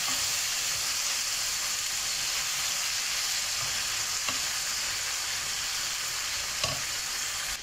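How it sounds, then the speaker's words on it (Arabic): Alexandrian-style liver frying in a pan with its sauce, a steady, even sizzle and crackle throughout, with a few small pops and no talking. "اهي دخلت الكبده على التسويه خلاص، تشرب الصوص بتاعها"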